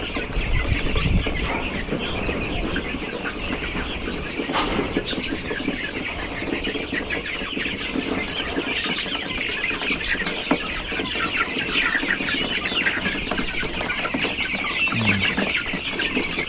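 Several chickens cluck steadily and close together, a dense continuous chorus of farmyard fowl with no talking.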